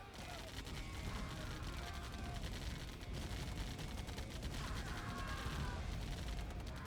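Continuous dense roar and crackle of flamer units firing in a real-time strategy game, steady and busy throughout with constant overlapping bursts.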